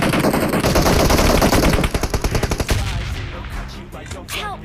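Rapid automatic gunfire bursts from the video game PUBG Mobile, loud and close, a dense rattling stream that breaks into spaced shots before fading into quieter ambient game noise.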